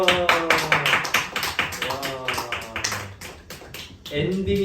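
Several sharp hand claps ring out at an uneven pace at a reading gathering, while people talk over and between them.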